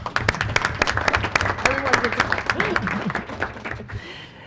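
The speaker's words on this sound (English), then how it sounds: "Should we clap for Nick, too?" A small group applauds at a state energy planning board meeting, quick dense clapping that carries on for about four seconds and then stops, with a voice speaking briefly partway through.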